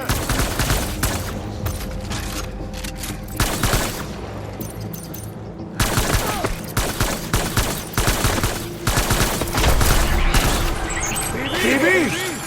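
Rapid gunfire from a firefight in the video game Death Stranding: dense bursts of automatic fire and shots in repeated volleys over several seconds, loud and close, with voices talking over the shooting.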